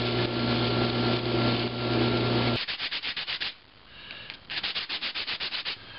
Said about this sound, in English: Now I'll be able to put this in the drill press and sand it.